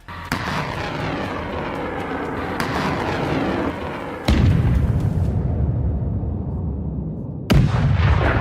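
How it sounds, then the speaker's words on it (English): HIMARS rocket strikes hitting a Russian artillery convoy: a series of sharp, loud booms, each followed by rolling rumble and roar, with the heaviest blasts near the middle and end. "HIMARS receives the coordinates and takes a shot."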